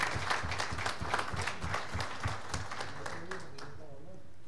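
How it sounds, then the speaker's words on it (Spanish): Audience in a conference hall at an Indigenous Mesoamerican pre-congress applauding, a dense burst of clapping that fades away toward the end, with a voice speaking over it. "Yo creo que merecen un aplauso"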